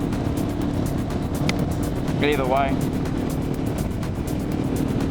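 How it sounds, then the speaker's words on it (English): A KTM motorbike engine drones steadily under loud wind roar while riding in hot weather, with a brief warbling chirp partway through and a few words spoken. "Fucking motorbike making noises."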